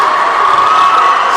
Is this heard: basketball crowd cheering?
yes